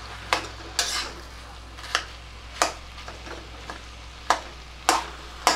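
Spiced potato filling for masala dosa stirred in a pan, the spoon scraping and knocking against the metal in sharp, irregular strokes over a faint steady sizzle.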